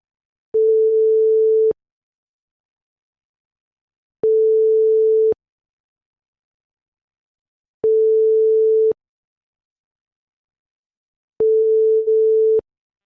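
An outgoing telephone call gives its ringback tone as four evenly spaced steady beeps, each about a second long, separated by silences, clear and alone.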